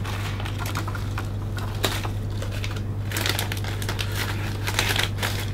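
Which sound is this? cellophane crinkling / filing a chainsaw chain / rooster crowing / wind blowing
cellophane crinkling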